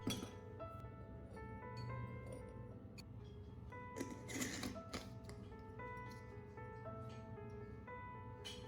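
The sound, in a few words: glass jar clinking while storing lemon seasoning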